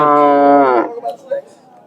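A native (deshi) cow at a busy rural cattle market lows once, a loud close moo lasting almost a second, followed by brief faint market noises.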